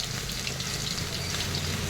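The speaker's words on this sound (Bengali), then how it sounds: "আজকে রান্না সজনা ফুল ভাজা করছি" Steady, dense sizzle of drumstick flowers frying in hot oil, loud and close, with no voices.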